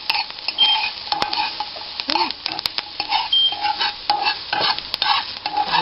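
Peppers sizzling in an overheated pan, a bright hiss broken by clicks and clinks of a utensil stirring against the pan, close by, with a brief murmur of voice in the middle.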